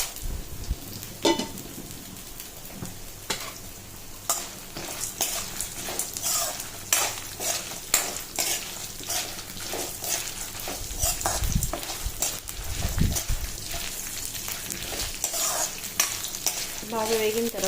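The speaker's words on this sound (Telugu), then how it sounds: "ఇలా ఆయిల్ వేడెక్కిన తర్వాత ఇవన్నీ ఫ్రై చేసుకోవాలండి" Snake gourd pieces frying in hot oil in a pan, with a continuous sizzle and frequent clinks and scrapes of a utensil stirring, close and fairly quiet, with no talking.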